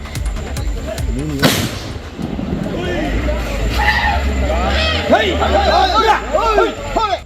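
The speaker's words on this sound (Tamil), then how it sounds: "வெடிபோட்டு குட்டி யானையை அங்கிருந்து சற்று தொலைவிற்கு விரட்டி" Firecrackers are set off to drive an elephant calf away: one sharp, loud bang sounds early on, then excited crowd chatter and shouting fill the rest.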